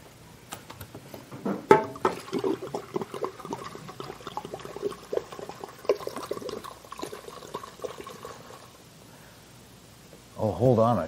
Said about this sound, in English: Then I'll fill one of those with water.